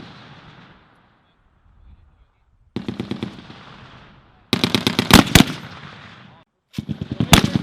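Rifle fire at an Army firing range during a mobilization exercise at Fort McCoy, Wisconsin: loud, sharp bursts of rapid shots in several volleys, with short silent gaps and a fainter distant round at the start.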